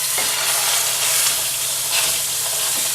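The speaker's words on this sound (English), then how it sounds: "put our ground meat right in and get this sauteing" Ground meat sizzles steadily in hot olive oil in a pan over medium-high heat, a close, continuous frying hiss with a few faint stirring scrapes.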